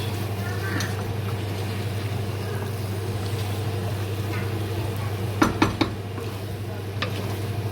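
Curry chicken stirred in a pot, a few brief clinks of a utensil against the metal over a steady low hum.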